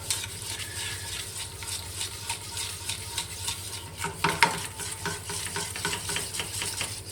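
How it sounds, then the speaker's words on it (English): A white roux sauce with milk is stirred in a pan, giving soft quiet scraping and swirling strokes in a steady rhythm with a faint bubbling, heard close with no talking. "Keep on stirring."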